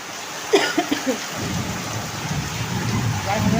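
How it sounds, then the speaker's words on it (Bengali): Rain pours steadily outside, a constant hiss, with a few brief knocks and a cough-like sound near the start. "বাইরে বৃষ্টি পড়ছে"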